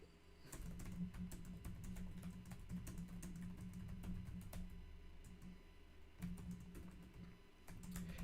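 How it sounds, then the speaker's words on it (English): Quiet typing on a computer keyboard during a live stream, irregular clusters of soft key clicks close to the microphone over a steady low hum, with no speech. "I'm just typing up here."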